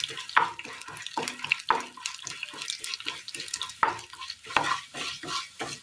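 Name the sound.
lentils (dal) frying in oil in a pan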